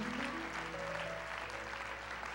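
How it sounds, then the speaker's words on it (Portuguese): A church congregation applauds in a steady, dense wash of clapping that holds through the whole stretch at moderate volume, with faint sustained tones behind it. "Pode dar uma salva de palmas ao Senhor"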